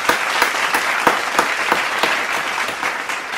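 Enthusiastic applause from a small group, a rapid run of sharp, uneven claps at close range that continues throughout with no talking.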